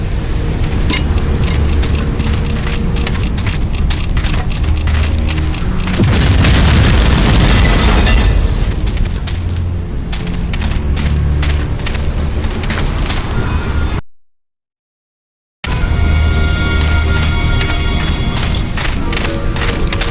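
Loud, continuous explosions and booming blasts from explosives destroying flak 88 guns in the Medal of Honor: Allied Assault video game, dense and heavy for most of the stretch, with a brief silent gap near the end.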